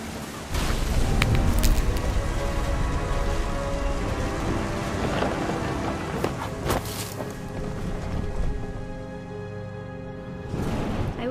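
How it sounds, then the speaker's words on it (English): Steady heavy rain pours throughout, with several sharp cracks of thunder and deep rumbles rolling under it, in the video game What Remains of Edith Finch. "The thunder sounded much too close and full of angry power."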